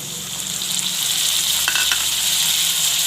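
Peanuts and tomatoes tipped into green chillies frying in hot oil for Punjabi poha, a loud close sizzle that swells and holds steady, with a brief rattle as they land; no talking.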